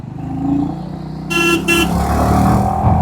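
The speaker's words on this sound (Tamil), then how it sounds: "ஹார்னுமே நல்லா லவுடாக இருக்குது" Over a running cruiser motorcycle engine, a bright horn gives two short honks, loud and close, the second briefly following the first.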